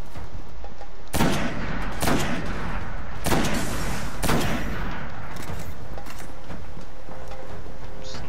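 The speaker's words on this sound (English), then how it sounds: "Sniper rifle's really powerful." Powerful sniper rifle shots in the video game Destiny ring out about five times at roughly one-second intervals, each a loud broadband crack with a short tail, over steady game ambience and faint voice.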